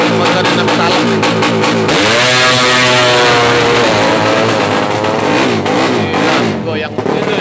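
A race motorcycle engine revs hard and loud up close, the pitch climbing and falling in long sweeps after a burst of sharp throttle blips, with an announcer's voice running underneath.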